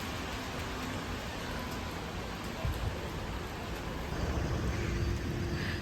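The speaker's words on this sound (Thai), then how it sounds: "ก็ฝนตกนะคะ" Steady rain falls in an outdoor city setting near a hotel, a constant broadband hiss with no clear drops, slightly heavier toward the end.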